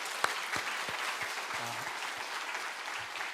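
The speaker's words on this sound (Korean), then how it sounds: "박수 한번 하겠습니다" Church congregation applauding during an evening revival service, steady dense clapping filling the hall throughout, with a few louder individual claps standing out near the front.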